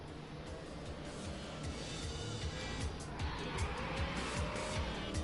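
A car drifting in The Crew 2, engine revving hard under a continuous tire squeal and skidding hiss, steady and close with rhythmic pulses through the slide.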